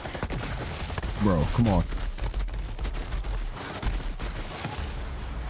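An assault rifle fires in Borderlands 3, with dense, sustained bursts of gunfire and sharp crackling shots running throughout. Someone speaks briefly over the shooting.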